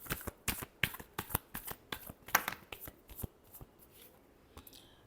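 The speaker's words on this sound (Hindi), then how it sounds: "Last shuffle." A deck of playing cards is shuffled close by in a quick run of crisp riffling flicks and taps that slows and thins out toward the end, with no talk.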